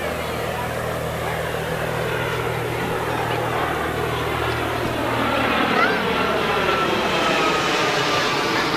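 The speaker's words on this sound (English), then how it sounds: "Apparently the Sheriff's Department helicopter thinks we need a lot of watching today." A steady, droning rotor roar fills the air continuously, like a sheriff's department helicopter hovering or circling overhead at moderate distance above a Fourth of July parade, with a faint low hum underneath.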